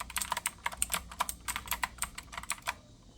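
Mechanical keyboard with brown or blue switches typed in a quick, steady run of crisp clicking keystrokes, close and clear, with no talking.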